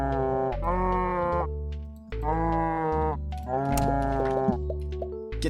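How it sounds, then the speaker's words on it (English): Cattle low in three long, loud, drawn-out moos from the Terracards video game, each bellow steady and harmonic, separated by short gaps with no talking. "Let's grab more cows, sure thing."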